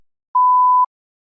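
A single clean electronic beep from a TOEFL test recording, a steady mid-pitched tone lasting about half a second, set against silence.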